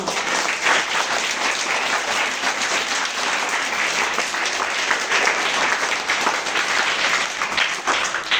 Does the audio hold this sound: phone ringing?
no